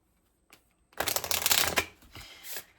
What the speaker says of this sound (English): I'll just shuffle once.